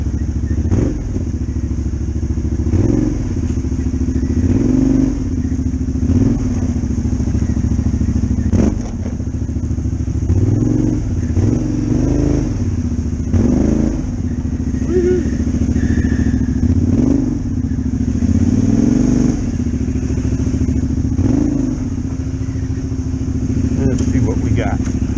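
A vehicle engine with a touchy throttle drones loudly and close for the whole stretch, its pitch rising and dipping in repeated revs, with occasional thumps and voices mixed in.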